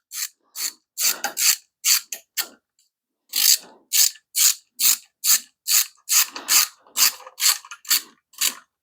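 A ratchet tightens bolts on a 5.7 Hemi engine build, with loud, close, rhythmic clicking in short bursts separated by brief pauses.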